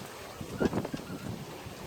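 Strong wind of around 20 knots at sea aboard a sailboat, a steady rushing buffet across the microphone with gusty surges and a low background roar.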